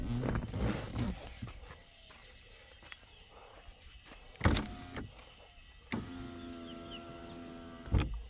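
The power windows of a 2020 Hyundai Creta 1.5 E diesel run up and down: a low electric motor whine in several stretches, each ending with a firm clunk as the glass seats, heard close inside the car.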